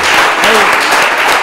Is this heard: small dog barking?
no